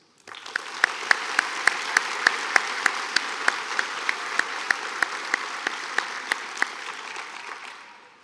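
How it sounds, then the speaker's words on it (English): Steady applause from a commencement crowd, sustained clapping with a few sharp louder claps standing out, rising quickly and fading at the end. "give a round of applause for the parents in the audience"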